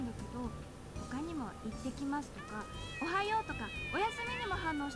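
Cat meows of varied pitch from a video game, several distinct calls spread across the stretch, heard under someone talking over soft background game music.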